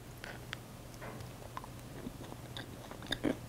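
Dense, dark gingerbread made with burnt sugar is bitten and chewed, giving faint, close, scattered crunches over a low steady hum, with a small cluster of crisper bites near the end.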